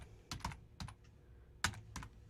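Computer keyboard keys are tapped while typing commands into the Packet Tracer command line during a VLAN configuration lab: a few quick, irregular clusters of crisp clicks, close and alone.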